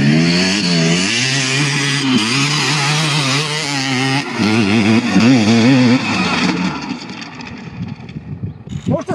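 A Sur-Ron StormBee electric motorbike rides over dusty ground with a loud, steady motor whine that rises and falls in pitch throughout, fading and breaking up toward the end.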